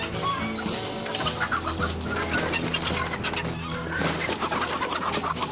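A crowded coop of chickens being caught during an SPCA animal rescue fills the air with dense, continuous clucking and squawking from many birds at once, close and loud with no talking.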